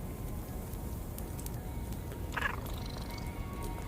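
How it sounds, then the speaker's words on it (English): A cat in the Eclipsium video game gives one short, faint meow midway through, heard over a low, steady background rumble. "It's a cat."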